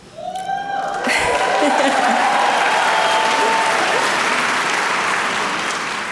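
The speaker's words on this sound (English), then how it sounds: "I love the applause" Audience applause and cheering at a Juneteenth music program in Seattle, a loud, dense clapping crowd swelling up within the first second and sustaining steadily at full volume, with whoops and voices mixed into the roar.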